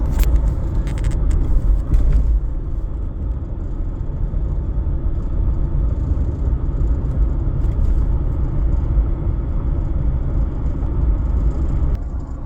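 A 6x6 truck camper's engine idling after its first start of the year, a deep, steady low rumble that continues unchanged, with a few clanks and knocks near the start.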